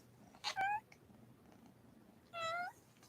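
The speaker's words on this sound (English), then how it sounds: "Cats. Come here and say hello to your adoring fans." A cat meows twice, two short, clear calls about two seconds apart, close by in a quiet room with no one talking.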